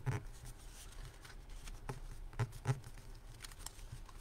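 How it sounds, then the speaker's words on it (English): Paper score lines being burnished by hand for a folded paper basket, giving soft rubbing and scratching strokes with a few sharper taps, quiet and close with no talking. "I'm going to sit there and burnish all those score lines"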